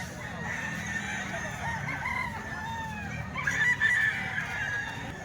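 Roosters and chickens at a market selling fowl crow and cluck amid background chatter, with a louder, closer crow rising near the end.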